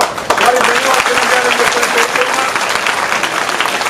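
An audience claps together at a school parents-teachers meeting, a dense, loud burst of applause filling the room from start to finish with crowd murmur mixed in.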